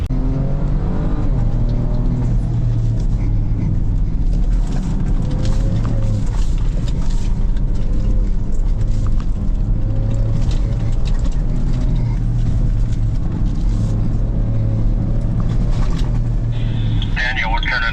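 Ford Ranger Raptor pickup truck running in Baja mode across open desert, a steady low engine drone and road rumble under continuous talk throughout.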